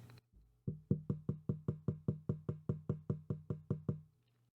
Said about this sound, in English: Here's the sound when I lightly tap the boom arm of the Elgato Wave DX.